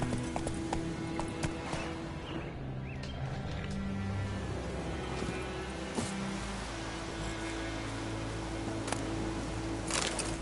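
Horse hooves galloping steadily in The Witcher 3, a continuous rhythmic clip-clop under a low rumbling ambient bed, with a brief whinny and no speech.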